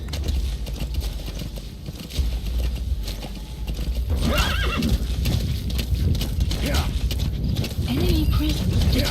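Horse hooves clip-clop rapidly over a steady rumble in the video game Metal Gear Solid V, with loud neighs and whinnies breaking through; voices talk faintly underneath.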